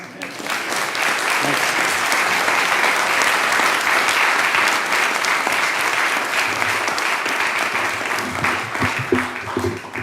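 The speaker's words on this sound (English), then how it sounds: "Give a round of applause." An audience claps steadily for several seconds, a full crowd's applause that swells quickly and tapers slightly toward the end.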